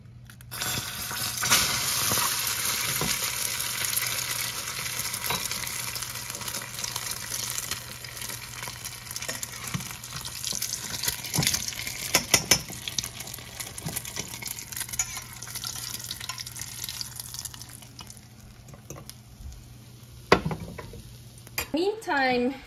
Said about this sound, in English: I like to deep fry them just shortly because then the egg yolk still stays